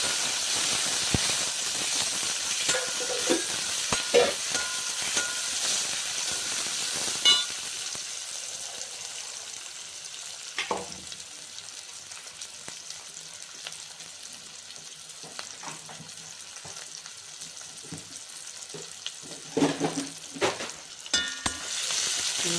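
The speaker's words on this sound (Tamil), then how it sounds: "வெங்காயம் நல்லா வதங்கிக்கும்." Onions sautéing in a pan for a Chettinad cabbage and potato masala give a steady close sizzle and hiss, broken by occasional stirring scrapes and clinks, with no talking.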